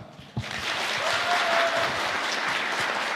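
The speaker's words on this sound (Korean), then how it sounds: "여러분들 할렐루야 아멘 하실 텐데 우리 서달수 목사님 나오실 때에 격려와 응원의 박수로" A church congregation at a Sunday morning worship service breaks into loud, sustained applause to welcome a pastor, a dense wash of clapping that starts abruptly and carries on steadily to the end.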